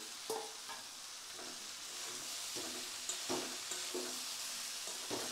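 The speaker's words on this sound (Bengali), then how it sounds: "এখন এটা আবার সুন্দরভাবে কষিয়ে নেব।" Soybean chunks and fried potato sautéed in a pan, with a steady close sizzle and repeated scraping stirs of the spatula every second or so, no voices.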